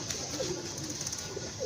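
Pigeons on a rooftop, soft low coos and faint bird calls against a steady background hum, distant and quiet.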